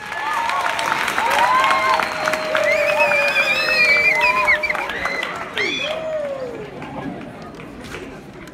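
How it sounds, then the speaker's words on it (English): Crowd at a secondary school welcomes performers with applause mixed with cheering and high whoops and calls, lively and close, with chatter running underneath before the noise gradually subsides. "Come on, guys, a warm round of applause."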